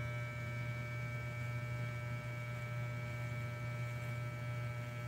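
Steady electric hair trimmer buzz during a self haircut at home, a constant close drone with a strong low hum and high tonal whine, no talking.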